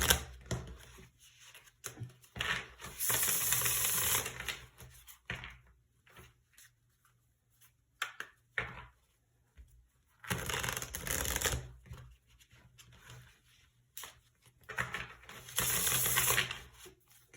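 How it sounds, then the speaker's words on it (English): Tarot cards being shuffled in several bursts of riffling and rustling, with quieter handling and clicks between them, close up and without talk. "I'm going to be shuffling these cards."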